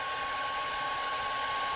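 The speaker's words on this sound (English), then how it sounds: "I'm going to turn this on and just place that in my hair dryer." A hair dryer runs with a steady, unbroken airy whoosh and faint tonal whine throughout, close and constant.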